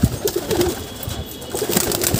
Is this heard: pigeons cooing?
yes